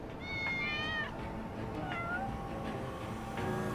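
Cats meow in the Lost Judgment video game: a prominent drawn-out meow at the start, then softer, shorter meows later. The calls sound close and are heard alone over a steady game ambience.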